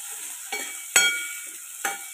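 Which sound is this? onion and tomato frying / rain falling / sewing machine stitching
onion and tomato frying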